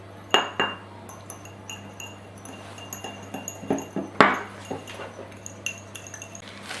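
An egg yolk and water are beaten together for a galette des rois glaze, with a utensil striking the bowl in light, irregular clicks and clinks, a few sharper taps standing out, and no speech.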